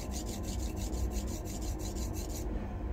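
A blade drawn over a coarse sharpening stone in steady rhythmic strokes, about a dozen close, gritty rasps in quick succession, then stopping abruptly, with no talk.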